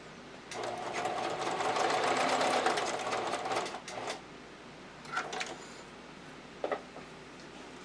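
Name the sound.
sewing machine sewing a narrow stitch on a bra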